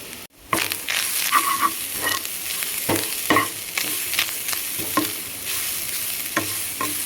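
Freshly grated coconut roasting in ghee in a pan, a continuous close sizzle punctuated by regular scraping stirs of a spoon, moderately loud and without any talking.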